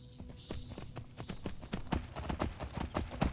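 Horse hooves clip-clop in the Skyblivion video game, a Skyrim-engine remake of Oblivion. The steps come in a quick, uneven run of distinct thuds, moderately close and fairly quiet, and no one talks over them.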